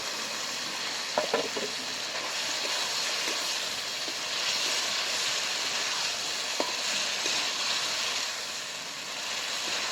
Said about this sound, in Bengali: ডিমগুলো মশলার মধ্যে দিয়ে ভালো করে কষে নেব